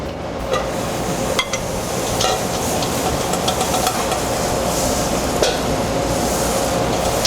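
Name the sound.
whole butter sizzling in a pan for venison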